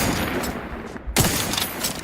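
Gunfire from The Outer Worlds 2, a dense, loud wash of shooting with a sharp burst standing out near the middle, close and continuous with no talk.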